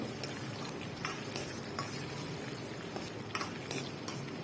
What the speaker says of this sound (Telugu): ఉల్లిపాయ బాగా ఫ్రై అయిపోయాక పుదీనా ఆకులు వేసుకున్నానండి అవి కూడా బాగా వేయించాలి